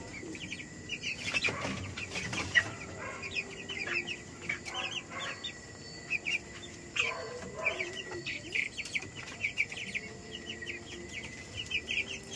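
Cobb 500 broiler chicks about 18 days old, peeping in a flock: many high, rapid chirps overlapping continuously at moderate to faint volume, with occasional louder calls.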